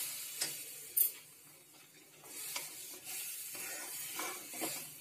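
A cooking mixture stirred in a kadai, soft scraping and ticking strokes of a spoon against the pan with faint sizzle, quiet and close, no voices.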